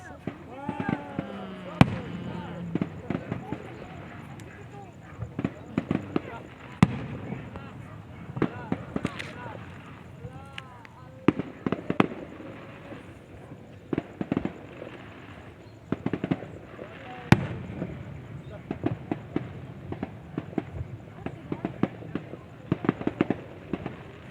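Fireworks crackle and bang repeatedly at a distance, sharp irregular pops scattered throughout, with people talking underneath.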